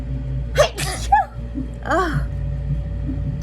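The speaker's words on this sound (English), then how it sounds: "I gotta sneeze." A single loud sneeze, preceded by a sharp gasping intake and followed by a brief exhale and murmured voice.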